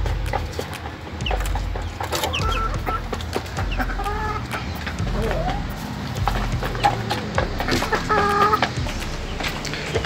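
Silkie chickens cluck in a coop, with soft scattered clucks and calls over shuffling and thumping from the birds, while a person talks nearby.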